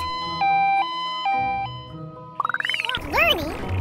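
Ambulance siren sounding alone, its rising and falling wail sweeping up through a fast warbling pattern after a plain melodic tone sequence, loud and close with no talk over it.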